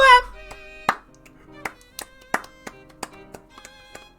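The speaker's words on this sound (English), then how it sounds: "The people sitting across from us and a few others began to give me a small golf clap" A small, sparse golf clap from a few people seated nearby, with scattered light taps spaced irregularly and fairly close, after a short burst of tone at the start.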